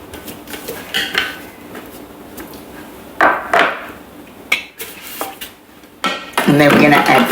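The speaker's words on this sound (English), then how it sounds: "And then we're going to scrape down the sides." Spatula scraping down the sides of a Thermomix bowl after chopping mushroom risotto ingredients, heard as a few short scraping and knocking strokes against the bowl, close and fairly loud, ending in a louder burst.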